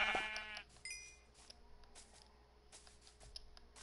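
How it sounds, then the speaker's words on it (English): Sheep bleating in the Minecraft video game, a few short, faint distant bleats near the start over a quiet game background with soft clicks. "Look, there's a sheep all the way over there."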